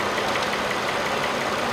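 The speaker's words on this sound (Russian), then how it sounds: "Какой-то стучок проскакивает в двигателе." Chevrolet Epica engine idling with a light, rapid ticking knock running steadily through a continuous close mechanical hum; no voices.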